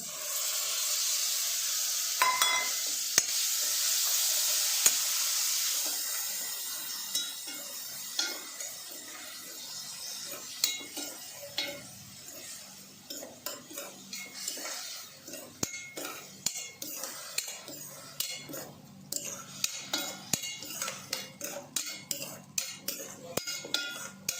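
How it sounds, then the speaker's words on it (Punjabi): Green chillies frying in yogurt in a pan, a soft hiss early on giving way to steady clinks and scrapes of a utensil stirring against the metal, fairly quiet and close, with no talking. "ਇਹ ਆਪਾਂ ਦਹੀਂ ਦੇ ਵਿੱਚ ਥੋੜੇ ਜਿਹਾ ਸੌਫਟ ਹੋਣ ਤੱਕ ਭੁੰਨਾਂਗੇ"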